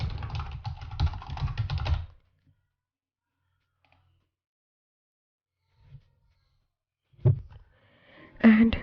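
Clicks on a computer keyboard come in a dense burst at first, then fall silent, with a few isolated taps and another short flurry near the end.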